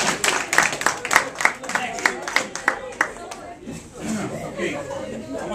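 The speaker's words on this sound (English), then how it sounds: "Give a nice round of applause" Children clapping at a school career day, a short run of separate, uneven claps that fades into chatter and murmuring voices.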